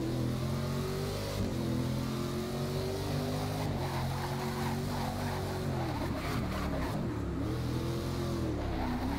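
Corvette C7R race car engine in Forza Motorsport 6, a loud, continuous roar that rises and falls as the car accelerates, shifts and brakes through corners.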